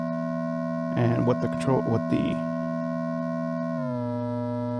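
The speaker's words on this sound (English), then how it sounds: "the real signal is a sine wave over here" Steady sine tone from a Moog Model 15 synthesizer app routed through an amplifier, holding a constant pitch that shifts lower near the end, with someone briefly talking over it.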